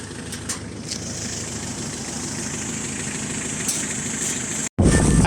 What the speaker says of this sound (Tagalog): ito sa mga diesel engine natin, R2 Mazda